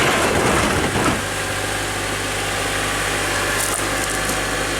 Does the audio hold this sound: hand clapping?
no